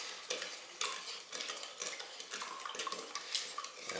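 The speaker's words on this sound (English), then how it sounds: "And then stir those ingredients together quickly." Granulated sugar and dinner roll ingredients are stirred quickly in a bowl with soft, quiet, repeated scraping and light clinks of the utensil, heard close with no talk.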